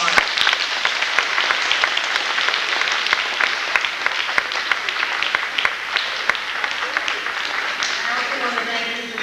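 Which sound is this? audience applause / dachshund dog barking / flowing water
audience applause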